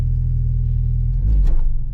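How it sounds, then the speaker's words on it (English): A rebuilt Ford Focus RS engine rumbles at a low idle, then briefly blips higher in a short rev near the end, loud and close. "How about a couple revs?"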